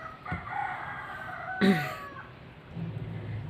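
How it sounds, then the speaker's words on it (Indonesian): A rooster belonging to a neighbour crows once in the middle, fairly near and loud, with faint clucks and quiet background sounds before and after. "Itu tetanggaku punya koleksi ini ayam jago."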